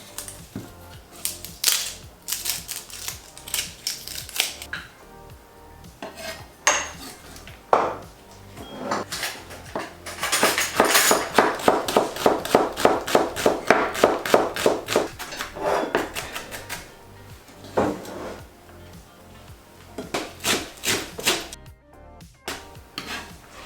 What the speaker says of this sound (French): On va émincer l'oignon, l'échalote et hacher la coriandre.